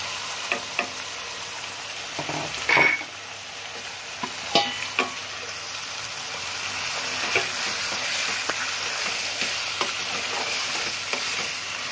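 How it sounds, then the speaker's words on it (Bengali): Egg and potato frying in a spiced masala, sizzling steadily with scraping stirs and a few sharp utensil clicks, one louder clatter near the start; close and alone, no talking. "ডিম আলু ছেড়ে দেবো"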